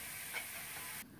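Crushed shallots sizzle in hot oil as they go into the pan for a beef dum biryani, a steady frying hiss with a brief flare, then dropping quieter near the end.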